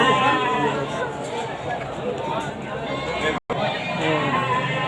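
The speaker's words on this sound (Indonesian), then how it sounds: "Cara Mas Andri beli kambing di daerah Pasar Sabtuan Tembus ini guys." Goats and sheep bleat amid a busy crowd at a livestock market in Situbondo, with people chattering and calling nearby throughout, broken by one brief silent gap.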